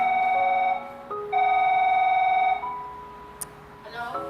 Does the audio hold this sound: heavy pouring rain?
no